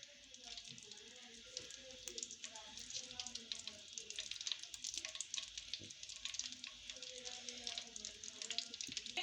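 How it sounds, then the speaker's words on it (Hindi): Besan (gram flour) roasting in ghee over a low flame gives a steady, soft, close sizzle and crackle that runs the whole way through, with faint clinks of stirring now and then. "हल्की आंच पे हम अपने बेसन को भूनेंगे"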